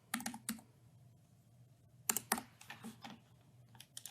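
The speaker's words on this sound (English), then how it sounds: "Type that in." Fingers type on a computer keyboard in quiet, irregular bursts of crisp key clicks, with short pauses between clusters of keystrokes.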